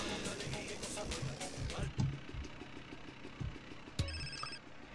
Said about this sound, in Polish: O, i mamy trzeci telefon od Torino.